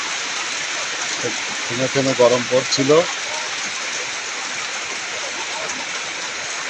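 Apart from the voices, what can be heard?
heavy downpour of rain in Kushtia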